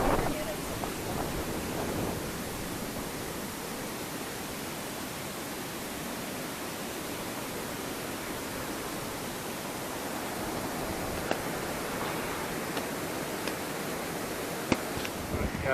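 Strong wind roaring steadily across a beach, a constant broadband rush with faint surf mixed in, loud and close to the microphone for the whole stretch, with occasional small knocks and no talk.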